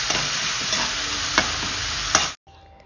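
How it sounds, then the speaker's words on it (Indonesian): Ground spice paste for village-chicken fried chicken sizzles loudly in hot oil as it is stir-fried, with a few spatula scrapes, then cuts off abruptly near the end. "kita tumis bumbu yang kita haluskan tadi"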